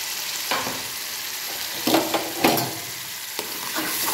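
Spice paste thinned with water is added to hot oil while cooking a pomfret fish curry, making a steady hiss of frying with a few louder sputters and stirring knocks, no talking.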